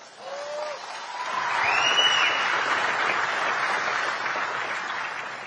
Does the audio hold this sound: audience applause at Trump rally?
yes